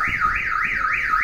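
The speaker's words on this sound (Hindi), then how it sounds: "बीप बजने लग गई गाड़ी में।" A car's electronic warning beeper sounds as a loud, continuous warbling tone rising and falling about four times in quick, even cycles, with no voices over it.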